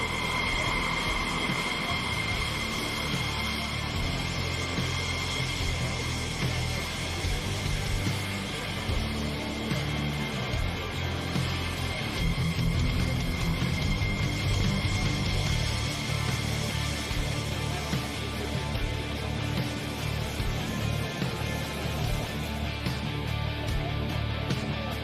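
An aerobatic airplane engine drones steadily throughout a power aerobatic routine at an air show, a continuous distant roar with no clear pauses.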